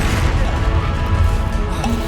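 A Confringo blasting-spell explosion from the Hogwarts Legacy video game rumbles as a loud, dense, sustained crash with a heavy low-end boom lasting the whole moment.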